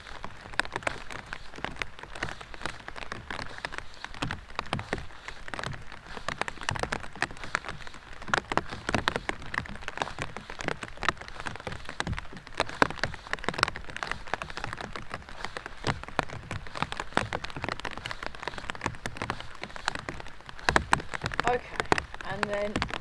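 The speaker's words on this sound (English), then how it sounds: "Like you've just realised it's pouring down with rain and you're feeling a bit oh look, it is." Heavy rain pours down steadily in a dense, continuous patter, with irregular drips and splashes, while a voice speaks faintly beneath it.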